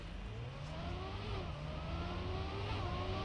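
Engine whine from a car in the Trackmania 2 Stadium racing game climbs and shifts pitch as it revs and accelerates, a continuous mid-range drone with no one speaking.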